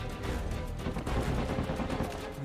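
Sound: gunfire in the video game Uncharted 4

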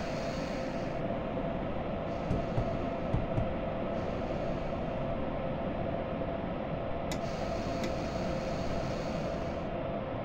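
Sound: freight train pulled by DB BR 189 locomotives entering siding

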